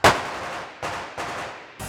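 Gunshots ring out in Las Vegas, fired in a freely chosen direction: four loud, sharp reports spaced unevenly, each trailing a brief echoing decay.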